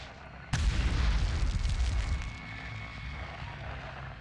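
A grenade blast in the Medal of Honor shooter, a sudden loud boom that rumbles and decays over a couple of seconds into a lingering low roar.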